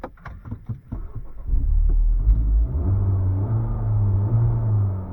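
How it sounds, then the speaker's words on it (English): Engine of a 2021 Honda Civic Type R Limited Edition FK8 while driving on the road, a steady low rumble heard from inside the cabin, with a few soft knocks at the start. "Driving the Civic Type R, number 16."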